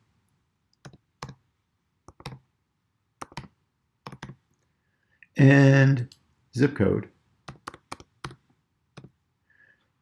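Computer keyboard typing into an online account setup form, sparse clusters of sharp key clicks spaced out over several seconds, interrupted once by someone speaking briefly.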